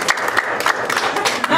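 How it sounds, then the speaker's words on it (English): Scattered clapping from part of a comedy club audience, a thinner, uneven patter of hands lasting only a moment, fairly loud and close. "Yeah, much cooler claps from those people,"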